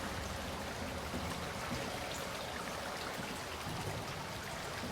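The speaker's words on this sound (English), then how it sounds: "Water spewing in doesn't feel like a good thing." In the game SOMA, water sprays into an underwater facility as a steady hissing, splashing rush, faint but continuous and broadband, with nothing else over it.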